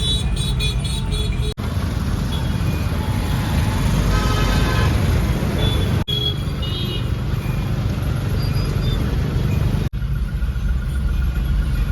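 Steady low rumble of jammed road traffic, with idling engines close by and a few brief tonal bursts like horns over the continuous din.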